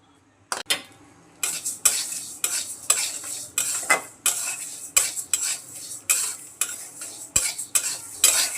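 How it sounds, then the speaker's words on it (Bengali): Mung dal dry-roasts in a hot wok, a spatula scraping and stirring it in rhythmic loud strokes roughly once a second, with a light rattle of the grains between strokes. "মুগ ডালগুলোকে লাল লাল করে ভেজে নিচ্ছি।"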